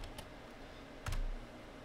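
Computer keyboard keys tapped while entering DHCP pool configuration commands on a Cisco IOS router, a few sparse, soft clicks with a brief cluster near the middle, close and quiet, no talking.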